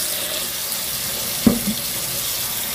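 Tap water running steadily into a sink while tomatoes are washed, a continuous close hiss with a brief splash or clunk midway.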